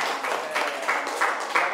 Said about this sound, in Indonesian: Tepuk tangan untuk Alma.